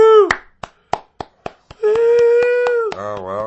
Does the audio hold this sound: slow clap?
yes